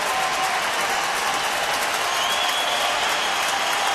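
Baseball crowd at Minute Maid Park applauding, a broad wash of steady clapping from a large crowd, continuous and moderately loud with no distinct voices standing out.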